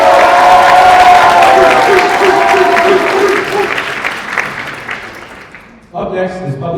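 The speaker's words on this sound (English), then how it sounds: "Let's get some roaring claps for our event coordinator, Lleyton Aguilar" Audience at a student association cultural event claps loudly and cheers in a dense burst that gradually fades. Talk runs under the applause, and a voice rises again near the end.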